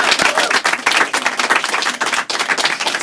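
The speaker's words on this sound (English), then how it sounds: "round of applause for the Bunnings ladder" A small crowd applauds a Bunnings ladder with a quick burst of sharp, dense hand claps that carries on steadily for a few seconds.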